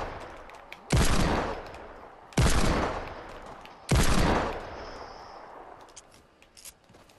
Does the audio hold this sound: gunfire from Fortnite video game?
yes